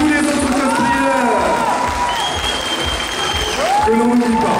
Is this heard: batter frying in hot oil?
no